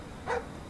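A guard dog in the stealth game Splinter Cell: Blacklist gives one short, sharp bark, moderately distant, rising briefly out of a quiet background.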